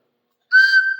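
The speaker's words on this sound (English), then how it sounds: "hooked it to a little whistle, a 3D printed whistle that I made here" A 3D printed train whistle blown by air through a hose from a junk spark plug piston stop rig gives one sudden, loud, steady tone after a short silence, holding and slightly wavering to the end.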